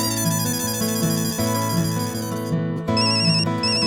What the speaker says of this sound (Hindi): तारक का फोन